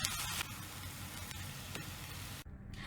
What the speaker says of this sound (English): We'll give it one last proper stir.